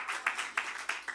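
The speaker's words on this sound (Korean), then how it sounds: "우리 아빠를 위해서 박수 한번 칩시다." A small church congregation breaks into a brief burst of clapping for the fathers during a Sunday sermon, a dense patter of hands with a few sharper accents, close and moderately loud, with no talking over it.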